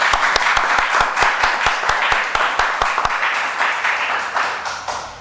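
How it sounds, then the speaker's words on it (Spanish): Applause at a solemn session of the Dominican Academy of History welcoming a new full member; a roomful of people claps, with loud, evenly spaced close claps over a steady crowd patter that fades toward the end. "Un fuerte aplauso."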